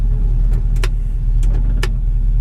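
A 1967 Ford Mustang engine idles at a low, steady rumble of about 500 RPM, close and loud, with a few short clicks or taps over it and no talking.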